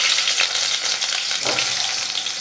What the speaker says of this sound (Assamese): তেলখিনি গৰম হৈছে এতিয়া আলুখিনি দি দিছোঁ